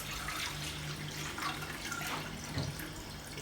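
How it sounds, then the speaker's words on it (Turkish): One liter of water is poured into a bowl, giving a soft, continuous splashing trickle heard close but fairly faint throughout. "Öncelikle 1 litre suyumuzu boşaltıyoruz."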